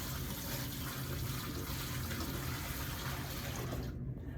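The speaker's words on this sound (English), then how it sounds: "I'm going to empty the basin." Water is emptied from a foot-washing basin into a sink, a steady rushing pour and splash that runs continuously for several seconds before cutting off abruptly.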